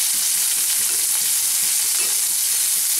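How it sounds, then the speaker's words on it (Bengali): Finely chopped onion fries in a pan for an oats poha dish, making a loud, continuous sizzle and hiss with soft stirring scrapes underneath, close by and with no one talking. "পেঁয়াজটা দিয়ে একটু ভেজে নেব।"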